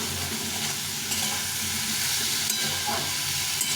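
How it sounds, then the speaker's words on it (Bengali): Potato and tomato curry with turmeric being sautéed in a pan, a loud continuous sizzle and hiss with the rustle of stirring running throughout, no voices. "ওইভাবে আরেকটু একটু কষিয়ে নেব"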